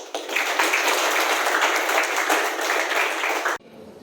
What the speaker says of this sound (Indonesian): Tepuk tangan untuk Saudara Raski.